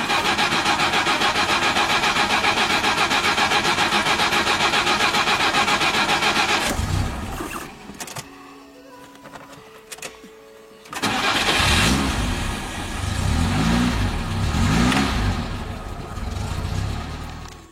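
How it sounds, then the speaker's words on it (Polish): An FSO Polonez car, whose starter is shared with the large Fiat, gives a loud, busy rumble, then falls quiet with a few clicks and whirs before the engine catches and settles into a rough, throbbing idle. "Charakterystyczny dźwięk rozrusznika, współdzielony z dużym Fiatem"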